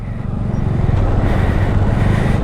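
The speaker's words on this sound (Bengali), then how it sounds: "তো আমরা এই মুহূর্তে ডালখোলার বিখ্যাত জ্যামে ফেসে আছি" Road traffic stuck in a jam at Dalkhola, heard as a steady, close, low engine rumble of idling and creeping vehicles that holds without a break.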